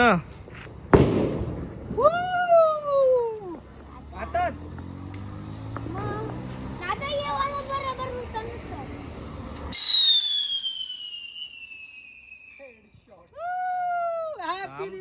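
A whistling rocket firework during Diwali Lakshmi Puja gives a long, falling shriek after a sharp launch, amid other crackling fireworks, with people talking nearby.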